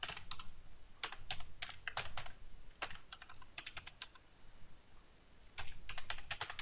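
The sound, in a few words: typing on a computer keyboard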